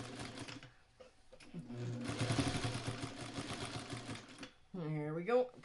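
A sewing machine stitches a quilt carrier in a steady mechanical whir, fairly close, with brief pauses and a voice talking over and around it.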